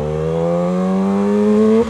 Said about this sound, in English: Wow, the bike shifts really good now.